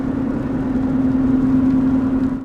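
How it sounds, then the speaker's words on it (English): A steady, even roar of tires rolling on pavement, heard from inside a moving Silverado truck, with a constant low hum running underneath. "even up to speed, the only thing you can hear is the tires"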